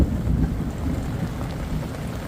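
Heavy rain pours steadily during a Christmas Day supercell thunderstorm in New South Wales, a dense, continuous roar with low rumbling thunder underneath, loud and close throughout.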